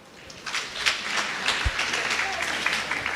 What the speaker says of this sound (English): would you clap your hands and appreciate OR Tambo for hosting us?